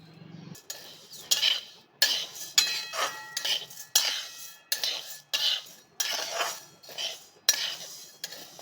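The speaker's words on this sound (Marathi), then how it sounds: "आता काळ्या वाटाण्याची डाळ आपण भाजून घ्यायची आहे" Black pea dal dry-roasting in a pan, stirred with a metal spoon that scrapes and clinks against the pan in repeated close, crisp strokes about every half second.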